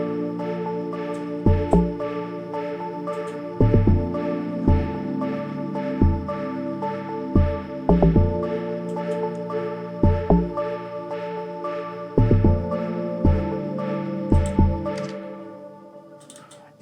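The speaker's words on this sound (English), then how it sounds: "And then the log drum sounds like this" An Amapiano log drum programmed in FL Studio plays as repeated punchy, pitched bass thumps in a syncopated loop, loud and up front within a sustained keys-and-pad backing track.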